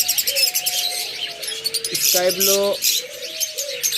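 Personata lovebirds in a bird shop chirp and call in short repeated bursts, close by, while someone talks over them.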